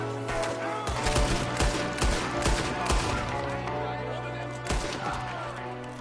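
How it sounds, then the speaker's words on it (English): Gunfire in the Red Dead Redemption 2 video game during a shootout with O'Driscoll gang members, sharp close shots in irregular bursts and clusters over a low background hum, with a voice speaking beneath. "There's another one shooting from the window."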